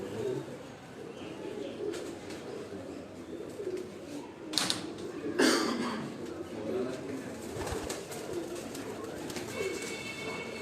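Breeder pigeons coo softly and repeatedly on a rooftop, low murmuring calls with a couple of brief sharp noises and faint background voices.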